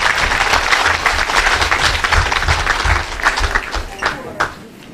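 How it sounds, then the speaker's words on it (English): Audience at an exhibition prize announcement breaking into a loud, dense round of applause that fills the room, then tapers off toward the end. "Can we give Robbie a round of applause?"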